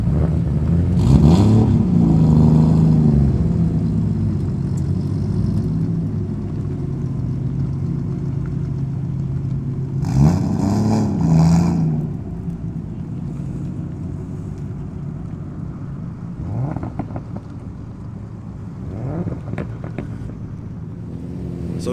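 A Nissan R32 GTR engine revs loudly on a racetrack, rising and falling in several surges with wind buffeting the microphone, close and continuous with no talking.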